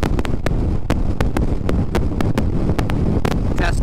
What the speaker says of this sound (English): See what the wind sounds like.